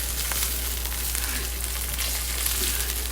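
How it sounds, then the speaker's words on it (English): Onions softening in a pan for Szechuan stir-fried green beans, producing a dense, continuous hiss of frying oil with no pauses, close and fairly loud, over a low steady hum. "Cook your onions till it's a little soft."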